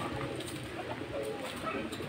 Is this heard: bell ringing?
no